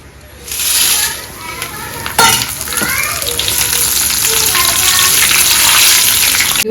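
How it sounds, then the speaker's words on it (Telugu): Dried red chillies frying in peanut oil for tomato pickle: a loud, crackling sizzle that swells after a sharp clatter as they drop in, then stays dense and steady. "ఇదిగో ఎండుమిర్చి ఆయిల్లో వేసి ఇప్పుడు వేయించుకుందాం"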